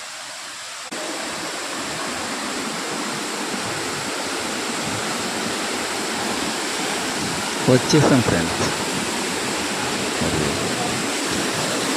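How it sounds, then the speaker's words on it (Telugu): Rampa waterfall near Rampachodavaram roars as a dense, steady rush of falling water, loud and constant throughout. A person speaks briefly over it. "ఇదంతా వాటర్ ఫాల్"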